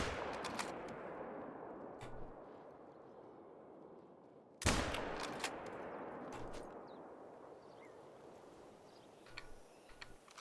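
In theHunter: Call of the Wild, a single loud, sharp rifle shot at a fallow deer cracks out midway through steady outdoor wind and ambient rumble, followed by a fading echo.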